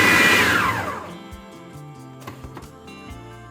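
An electric chopper briefly whirring through green chilies for a coarse chop, a loud high motor whine that winds down within about a second, leaving faint rattles and settling clicks.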